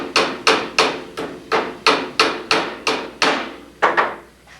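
About a dozen loud, ringing hammer blows driving nails into a wooden stud, struck one at a time at a steady rhythm close by, each blow followed by a short decay.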